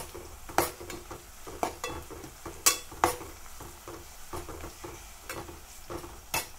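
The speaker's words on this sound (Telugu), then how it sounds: "పసుపు అల్లం వెల్లిపాయ మంచిగా పచ్చి వాసన పోయే వరకు ఫ్రై చేయాలండి" Turmeric, ginger and garlic fry in a pan with a soft, continuous sizzle, broken by sharp, irregular scrapes and clinks of a spoon stirring, close and without speech.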